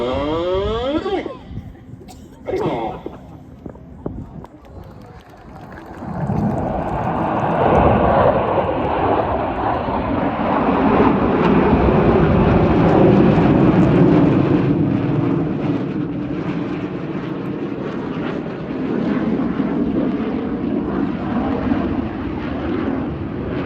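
Blue Angels jet aircraft flying in tight formation at NAS Pensacola build from a distant whine to a loud, sustained roar as they sweep overhead, the rumble lingering and slowly fading afterward.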